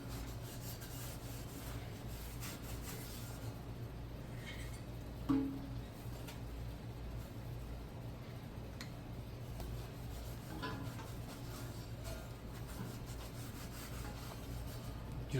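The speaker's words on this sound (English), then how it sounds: "I'm just gonna apply some oil to this rag here and just wipe all this down." An oily rag wipes down a welded scrap-metal barbecue grill, giving quiet, repeated rubbing strokes with a steady low hum beneath and a single sharper knock partway through.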